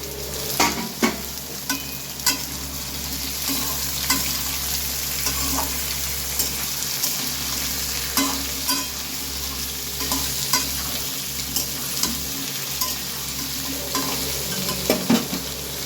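Soaked chickpeas fry in a pan with a steady sizzle, while a spoon scrapes and stirs them with regular clinks and scrapes over a low continuous hum.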